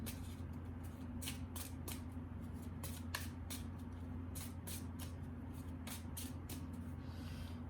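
Tarot cards are shuffled repeatedly in quick riffling bursts over a low steady hum, close and fairly quiet.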